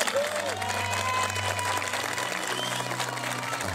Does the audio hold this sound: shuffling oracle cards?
no